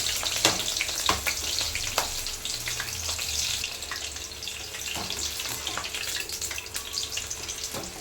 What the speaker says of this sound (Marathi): थोडी मिरची तळून घेते म्हणजे मस्त टेस्ट